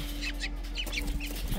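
Serama chickens make soft, scattered clucks close by over a steady low hum, with no one speaking.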